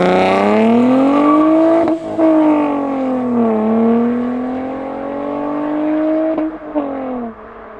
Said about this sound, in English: that's basically how it sounds from revving